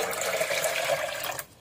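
Tap water streams steadily into a plastic blender jar being checked for a leak, a close, even splashing fill that cuts off abruptly just before the end.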